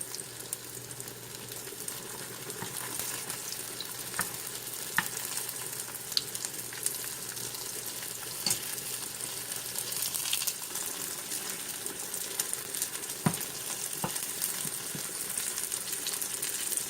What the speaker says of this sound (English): Give them adequate space so they can fry individually.